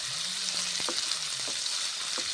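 Cashew nuts, onion and spices fry in a pan with a steady, close sizzle, broken by a few light scrapes and knocks of a spatula being stirred through; no voices.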